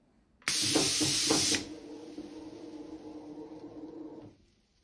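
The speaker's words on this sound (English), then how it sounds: "I've never known an emulsion latex paint to spray so good at such low pressure." A sharp burst of hissing spray from an airless sprayer spraying emulsion paint at low pressure, loud and close, lasts about a second, then gives way to a lower steady mechanical hum that fades out.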